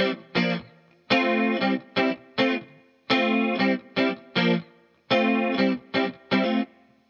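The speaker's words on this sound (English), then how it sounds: "just some three-note chords here for a really great electric part" Electric guitar strums short three-note chords in a choppy, rhythmic riff, with bursts separated by brief gaps, loud and upfront with a chorus-like shimmer.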